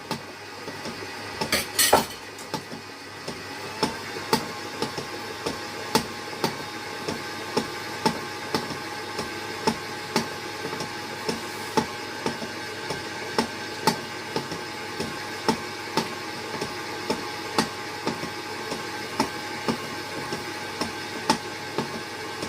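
A stand mixer head runs while baking a red velvet layer cake, giving a steady motor whir with a rhythmic clinking knock and a brief metallic clatter near the start, close and without speech.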